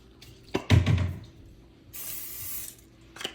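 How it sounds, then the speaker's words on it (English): Canola oil cooking spray hisses into a pan in a steady burst of about half a second, close up, after a few clunks of the pan being handled; no one speaks. "Just a little bit of canola oil spray."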